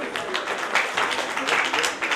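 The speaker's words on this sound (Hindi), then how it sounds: "मैं इनवाइट करता हूं बड़ी सवाली तालियों के साथ श्री राजेश जी पूनिया" An audience at a success celebration event claps to welcome a guest onto the stage, a moderate, continuous wash of applause with voices mixed in.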